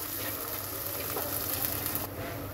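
Steady, dense sizzling of food frying in oil in a pan, loud and continuous throughout with no talking.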